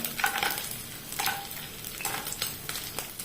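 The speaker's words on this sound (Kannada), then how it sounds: "ಗೇರು ಬೀಜವನ್ನು ಕೂಡ ಫ್ರೈ ಮಾಡಿಕೊಳ್ಳ" Cashew nuts frying in ghee, a soft continuous sizzle with a few stirring scrapes at intervals, close and fairly quiet.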